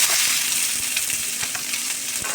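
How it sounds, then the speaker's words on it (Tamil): Chopped garlic fries in hot oil in a pan with a steady, close sizzle and crackle, broken now and then by soft stirring scrapes. "உள்ளியை போட்டு விடுவோம்."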